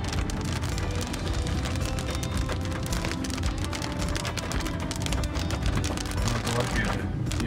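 Steady rain patters densely on surfaces throughout, a constant hiss with no pauses.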